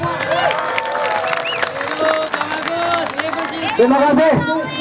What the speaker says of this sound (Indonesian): Ya, tepuk tangan dari semua.